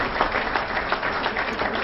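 Dense clapping patters on steadily at moderate loudness, celebrating an MVP result in a Mobile Legends game.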